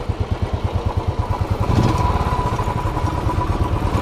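A Royal Enfield motorcycle on its double stand fires up, beginning with a rapid, even thumping rhythm that quickly swells into a loud, steady, close engine run.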